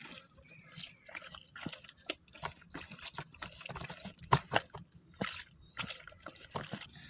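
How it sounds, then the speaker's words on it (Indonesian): Chopped carrots are stirred into a wet kimchi seasoning paste, making close, squelchy, dripping smacks and soft clicks in an uneven rhythm, with no voices. "Kemudian kita masukkan wortel yang sudah dipotong-potong tadi ke dalam bumbu."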